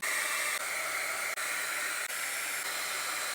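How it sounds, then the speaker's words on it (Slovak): A cheap hot-air brush styler with low, medium and high settings blows steadily and loudly close up, a constant whooshing rush broken by three brief dropouts, with no talking. "No musím povedať, že fúka to fakt šialene a dá sa tam teda nastaviť aj teplota."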